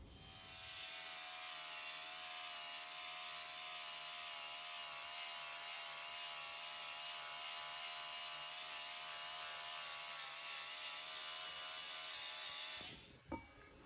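Thick propeller blades, about 7 mm, being shaved down by hand with a steady, continuous rasping scrape of tool on material. It runs unbroken and close for roughly thirteen seconds, then stops with a few brief knocks.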